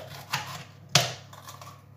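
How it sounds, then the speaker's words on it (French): A knife chops peppers into small pieces for a bacon tart, two sharp, close cuts on a board, the second louder, with quiet gaps between. "je vais venir couper en petits morceaux mes poivrons"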